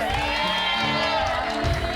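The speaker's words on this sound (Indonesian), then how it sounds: "Tepuk tangan." A television studio audience cheering and clapping in a steady, close roar, with a host talking and music playing over the crowd noise.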